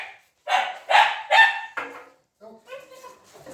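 Dogs bark at breakfast feeding time, first as three loud, close barks in quick succession, then as a looser run of higher, yelping and honking barks that fade a little toward the end.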